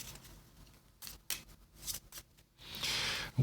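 Deck of game cards being shuffled and handled close by, a run of sharp riffling bursts followed by a longer continuous flutter near the end, no talking.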